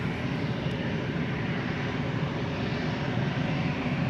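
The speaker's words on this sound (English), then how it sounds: "EasyJet, the line cutter." An easyJet Airbus A319 jet bound for London Luton, steady broadband engine roar at moderate distance, constant and unbroken with no speech.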